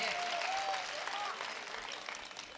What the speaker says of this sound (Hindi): वाह वाह, बढ़िया बेटे, बजाओ तालियां